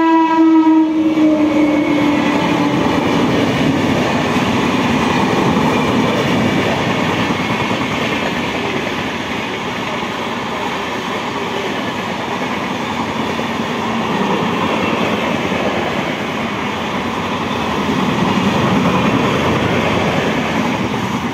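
The Akal Takht Express, an Amritsar–Kolkata passenger train, rushes past at high speed with a horn blast at the start, followed by a long, loud, steady roar and clatter of wagons on the rails.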